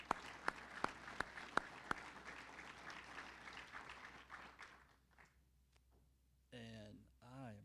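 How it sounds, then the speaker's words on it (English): Applause at a regional broadband summit for panelists and moderators, a few sharp nearby claps over a soft, spread-out round of clapping that thins and fades after about five seconds, followed by someone speaking. "let's give them a round of applause as well"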